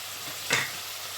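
Chopped tomato and chicken frying in a pan, a steady close sizzle with one brief louder hiss of stirring in the middle, no voices.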